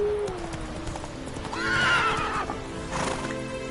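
Roach the horse in Witcher 3 gallops with steady hoofbeats and lets out a clear, close neigh midway, with a second whinny near the end, over faint game ambience.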